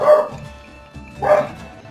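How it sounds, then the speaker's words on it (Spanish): Two short, bright synthesized dog barks from the Pokémon Ultra Moon video game, spaced about a second apart, clear and close. "¡Perros!"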